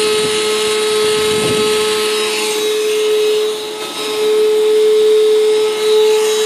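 Small 20 volt electric motor whirring steadily with a constant high-pitched hum, running alone at close range with a slight dip midway.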